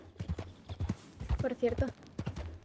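Horse hooves clip-clop in Red Dead Redemption roleplay on RedM, a steady uneven trot of close hoof strikes, with a person talking over them.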